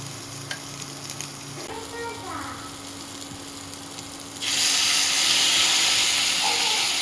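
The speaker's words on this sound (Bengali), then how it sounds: "সেই প্যানের মধ্যে একটুখানি বাটার দিলাম আর সামান্য একটুখানি তেল দেব" Butter and a little oil heat in a pan for homemade pasta, making a low sizzle with a couple of scraping stirs, then a sudden louder, hissing surge of frying that holds steady to the end.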